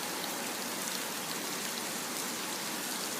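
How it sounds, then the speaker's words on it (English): Heavy rain pours down steadily in Sharm el-Sheikh, Egypt, a dense, unbroken hiss of water beating on surfaces, close and constant with no voices. "you can hear the water beating down"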